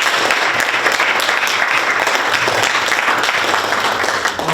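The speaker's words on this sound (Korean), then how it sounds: "저희는 너무 박수가 짠 것 같아요" Audience applause fills a Korean community meeting with lawmakers, a dense, steady clapping from a crowd in a hall that carries on for several seconds before tapering slightly at the end.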